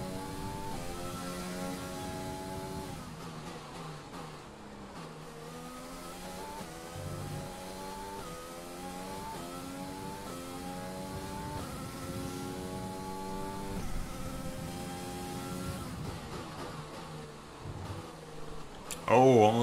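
F1 racing car engine in the F1 2020 video game during a Canadian Grand Prix race, a continuous high-pitched whine that climbs and drops through gear changes, sustained and fairly even in loudness with brief louder bursts near the end.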